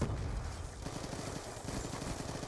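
Rapid automatic gunfire from an MSMC submachine gun in the PC shooter Black Ops 2, loud and continuous bursts filling the whole stretch with dense overlapping shots.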